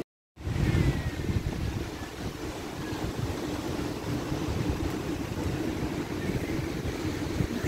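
Strong wind buffets the microphone on a sea beach at Gopalpur, a loud, rough, continuous roar with crashing surf blended beneath it.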